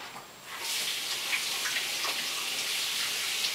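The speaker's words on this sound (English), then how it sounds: "Let me wash my hands" Water runs steadily from a tap while hands are washed, a continuous close hiss with small splashy fluctuations that starts after a brief quiet moment and continues throughout.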